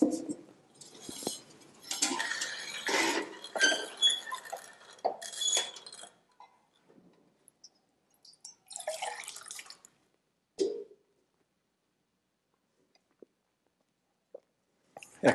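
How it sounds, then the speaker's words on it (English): Water is drawn from the ancient Jacob's Well, heard as close clanks, drips and splashes from a bucket or vessel that come in irregular bursts, then trail off into long quiet gaps broken by a few isolated knocks. "So let's draw some water from Jacob."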